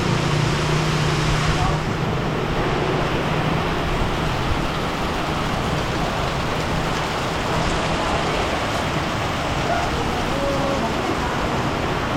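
Steady, dense rain hisses without a break, a broad wash of sound with faint traffic-like rumble underneath.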